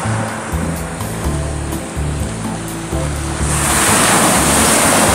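Ocean waves wash onto a beach, starting under background music and swelling to a loud, close surf roar in the last seconds, with some wind buffeting the microphone.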